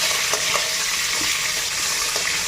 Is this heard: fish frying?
yes